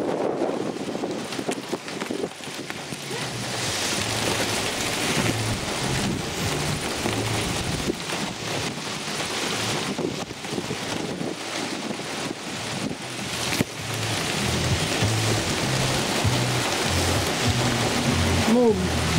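Steady rain patters during a summer thunderstorm at a country house, with gusting wind buffeting the microphone, a constant rushing wash with faint voices underneath.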